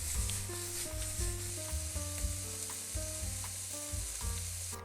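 Squid sizzles steadily in a hot pan while it is stirred, with scraping and clinking of a utensil throughout.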